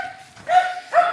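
A dog at a kennel on a Malnad farm barks twice in quick succession, close and fairly loud, with a short pause between the two barks.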